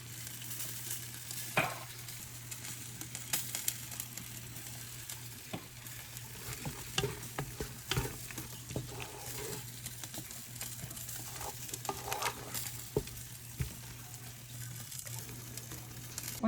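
Garam masala, curry powder and minced ginger stirred into food frying in a pan, a soft continuous sizzle with scattered spoon scrapes and knocks, close and low in level, no voices.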